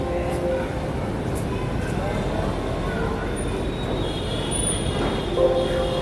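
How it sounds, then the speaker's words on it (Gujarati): A train at Vadodara railway station, with a steady broad rumble of rail traffic and faint high wheel squeal, heard continuously and fairly close amid station ambience. "કંઈ આવું દેખાય છે વડોદરાનું રેલવે સ્ટેશન."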